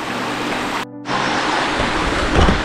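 Stream water rushing steadily near Kshirdhara waterfall at Channat, a loud, close, continuous wash of flowing water with a brief dip partway through.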